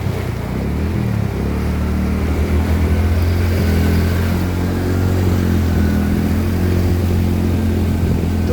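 A vehicle engine hums continuously and steadily while driving slowly through flooded streets of Baharampur, with low rumbling filling the whole stretch.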